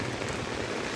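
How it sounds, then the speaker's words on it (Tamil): Heavy rain pours steadily onto a road on the route toward Morappur in Dharmapuri district, a dense, constant hiss of drops hitting wet pavement with no other sounds. "சரியான மழை. மழைனா மழை, அருமையான மழை."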